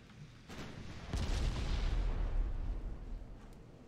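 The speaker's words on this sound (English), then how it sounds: "all batteries focus fire on the enemy battleship" Naval artillery batteries firing in the game Ultimate Admiral: Dreadnoughts, a sudden heavy boom followed by a long rolling rumble of sustained gunfire that swells and slowly fades, with no voices.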